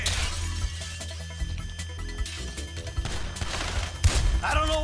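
Shotgun fire in GTA 5, a string of heavy blasts mixed with crashing, shattering impacts and game effects, loud and close, with a sharp burst near the end.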